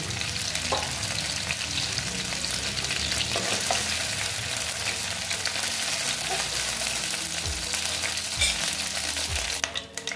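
Chicken frying in oil in a pan, a loud, dense sizzle that stays even throughout, with a few low knocks near the end as pieces are lifted out.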